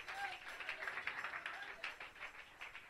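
A church congregation claps in praise, a rhythmic run of hand claps with uneven swells, heard through a worship service with a preacher's voice mixed in.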